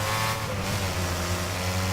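A race car engine in the video game Wreckfest drones at high revs, a steady buzzing whine with layered harmonics, continuous and loud throughout.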